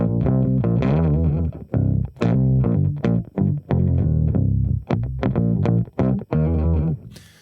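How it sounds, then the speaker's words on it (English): Hofner Beatle bass played through a Saturn 2 grit effect, a gritty, slightly distorted bass line of short plucked notes in a choppy rhythm with brief gaps, loud and close, no talk. "I didn't want distortion, I want grit. And Saturn 2 gave me just that."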